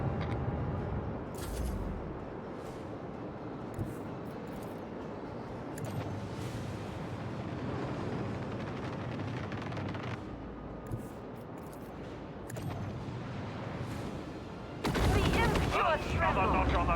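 Macro cannon fire and explosions in a space video game, a series of booming blasts and rumbling impacts running throughout, with a louder burst near the end.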